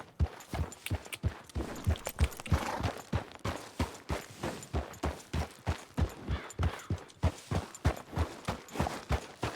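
Horse hooves clip-clopping at a steady walking rhythm in a Red Dead-style game with the Bandit Hideouts mod, each hoofbeat distinct and close, continuing evenly with no speech.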